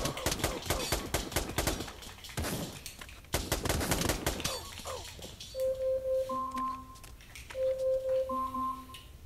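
Rapid bursts of automatic rifle fire from Pavlov VR, a virtual-reality shooter on Oculus Quest, crackle in dense volleys and then give way to short electronic tones.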